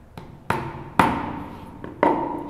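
A hammer drives a chisel into a wooden tissue box lid in a series of sharp, ringing strikes, with two light taps and three heavier blows spaced unevenly, close and clear with no talking.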